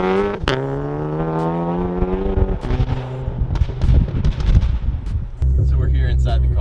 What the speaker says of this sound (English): The exhaust is kind of loud, you know, but the turbo is also quite loud as well.